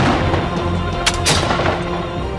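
Cannon fire as a sound effect for the Spanish siege of Oudewater, with loud booming blasts and a couple of sharp cracks layered over a rumbling battle din.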